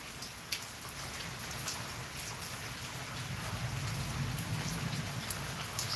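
Steady rain from a thunderstorm in East Oklahoma City falls continuously, a dense hiss of drops hitting surfaces that builds slightly louder toward the end, with a low rumbling undertone and no voices.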